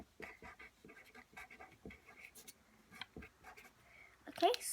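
A pencil scratches across paper in short strokes during a blindfolded drawing game, faint and close, with soft voices and a brief louder noise at the end.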